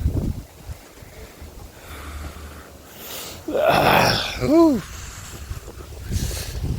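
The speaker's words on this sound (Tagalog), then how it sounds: "Mahangin po. Lakas ng hangin" Gusts of wind buffet the microphone in uneven surges, with a brief rising-falling tonal sound partway through and roaring bursts toward the end.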